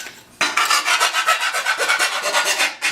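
Hand file rasping burrs off a metal part from a 1966 Chevy truck, a close, rhythmic series of about a dozen quick scraping strokes after a brief quiet start.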